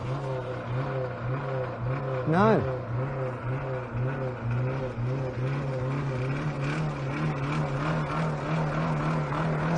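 A struggling car engine in an endurance test runs with a rough, wavering, pulsing drone as it dies, and a voice speaks briefly over it.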